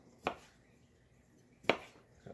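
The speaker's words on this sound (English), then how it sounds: "chop these up in half before I throw it in there" Two crisp knife chops through tomatoes being halved for a lunch salad, spaced well apart with quiet kitchen air between them, close and clean.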